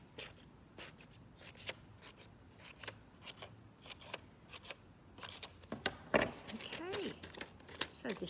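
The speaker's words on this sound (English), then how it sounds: "I'm going to get my scissors and I'm going to do cuts into my paper from the edge the whole way round like this" Scissors make a run of faint, crisp snips as they cut into paper all the way around its edge for a children's craft, with light paper rustling between the cuts and louder snipping toward the end.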